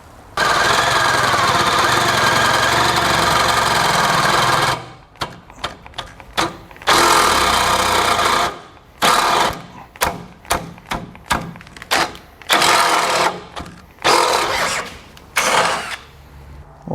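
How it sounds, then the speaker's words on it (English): A loud power drill drills out a hole for a Roadmaster base plate on a 2018 GMC Sierra 1500, running steadily for several seconds, then whirring in short on-off bursts with brief pauses, close by and harsh. "So we're going to drill out that bottom one"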